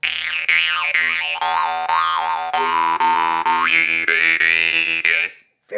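Shanqobyz jaw harp with a stiff reed plucked in a steady rhythm, each twang loud and close with a shifting, vowel-like overtone sweep, ending in a brief silence.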